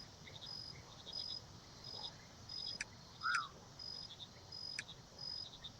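Quiet nighttime swamp ambience from the game Mudborne, with crickets trilling steadily, a few sharp clicks and a single chirping call standing out midway, no talking.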